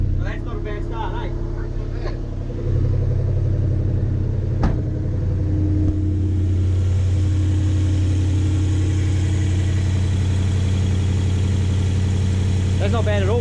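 A car engine idles steadily just after a cold start with the cold-start enrichment pulled out, a low, even rumble close by, while someone talks over the start.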